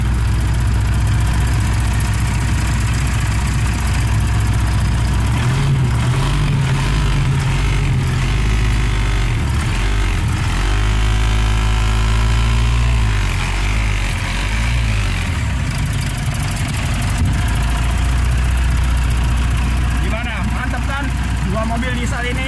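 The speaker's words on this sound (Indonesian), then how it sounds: "Nah ini dia bagian engine dari Mitsubishi Pajero Sport Dakar" Diesel engine of a 2015 Mitsubishi Pajero Sport Dakar idling steadily with a low, constant rumble, close and loud throughout, with someone talking over it.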